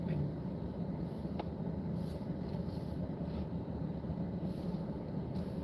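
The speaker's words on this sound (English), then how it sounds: "A lot of traffic here." Steady passing road traffic on a snowy road, a continuous wash of tire and engine noise that holds at an even level throughout without distinct individual pass-bys.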